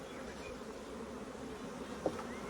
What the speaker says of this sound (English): So we've got quite a nice lot of bees in there.